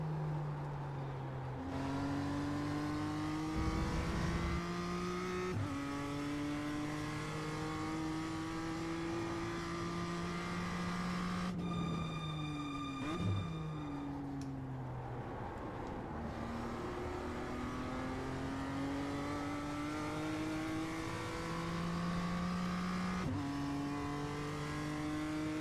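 A BMW M2 race car engine in iRacing revs hard through repeated gear changes, its tone climbing and dropping over and over in a sustained loud drone with no talk.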